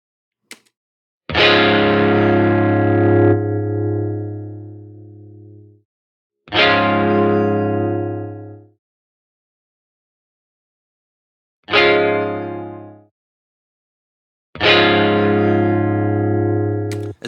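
Re-amped electric guitar, edited in Melodyne, rings out in four separate, loud, sustained distorted notes, each left to decay before a short silence and the next attack.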